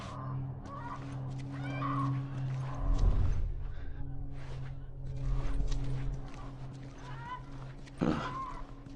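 A horse snorts and whinnies in The Last of Us video game, with a few brief neighs and shuffling hoof sounds over a low ambient hum, fairly close and moderately loud, with no clear speech.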